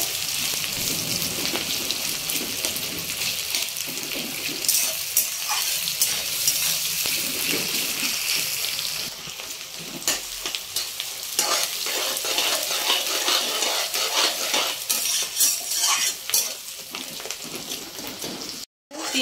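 Onions frying for chicken curry, a dense steady sizzle with scraping stir strokes and clinks of a utensil against the pan, continuous and close throughout.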